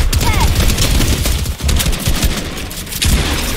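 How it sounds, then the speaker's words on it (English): Sustained rapid SMG gunfire in a battle-royale video game, dense loud bursts running almost continuously with brief dips, no talk over it. "Now I have a blue SMG."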